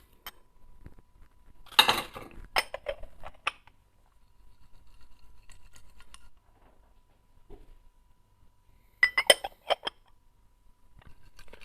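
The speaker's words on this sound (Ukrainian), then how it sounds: "Зараз ми спробуємо його заварити в гайвані." A porcelain gaiwan is handled while brewing about ten grams of rare 1984 shu puer tea with citrus peel, giving bright clinks and taps in a cluster early on, then a second burst after a quiet stretch.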